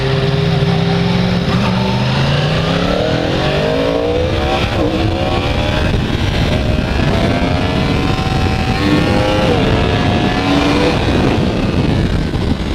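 A 2015 Yamaha R1 sportbike accelerates hard through its gears, the engine note climbing in rising sweeps to a high-revving scream, loud and sustained with wind rush, at close range from the rider's position.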